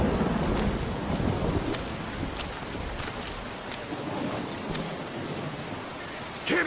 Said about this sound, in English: Well, there's a storm rolling in.